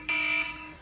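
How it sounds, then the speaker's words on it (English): A household alarm sounds, a loud, steady high-pitched electronic tone that starts abruptly, holds for under half a second and then fades out. "hold on y'all, that's my alarm"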